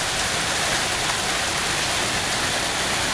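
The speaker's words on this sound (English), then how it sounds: "we are getting hail." Hail falls in an April hailstorm, a dense, loud, unbroken clatter and hiss of stones striking surfaces nearby, steady throughout with no voices.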